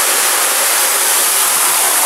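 Steady, full roar of the large Suuçtu waterfall at Mustafa Kemal Paşa, heard up close and unbroken, with spray drifting down in summer heat and no voices present.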